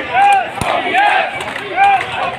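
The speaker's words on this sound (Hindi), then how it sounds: "बहुत भीड़ है, हजारों की संख्या में लोग आए हुए हैं।" A large crowd of thousands at a pension rally in Haldwani, Nainital, chants in rhythmic, repeated shouts. The unison cries rise and fall loudly and close, with one sharp knock partway through.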